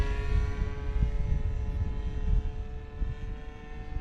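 BlitzRCWorks P-40 Warhawk 1100mm RC warbird flying overhead, a steady electric motor and propeller whine with a constant tone, moderately loud and unbroken over several seconds.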